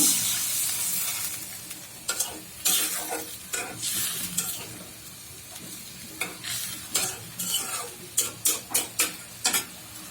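Eggs fry and get stirred in a spiced gravy for egg bhuna, a steady sizzle broken by repeated scraping strokes of a spoon against the pan, growing into a quick rhythmic run of stirs near the end.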